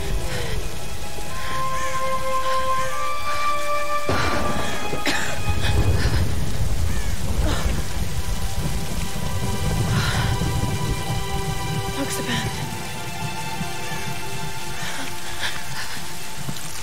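A storm rages in the Tomb Raider (2013) game: steady rain hisses throughout, low rumbles rolling underneath, with scattered tonal game sounds and a brief sharp hit midway.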